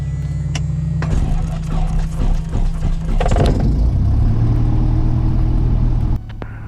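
A small private airplane's piston engine cranks over, then catches and settles into a steady, loud rumbling run close by, with strong low throb throughout.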